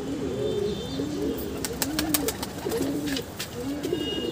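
A red pigeon, one of a pair, cooing in a repeated low rolling rhythm, close and steady, with some higher background bird chirps behind it.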